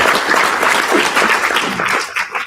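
A crowd claps loudly and continuously for judges at an entrepreneur camp pitch event, a dense, close applause that fades slightly toward the end.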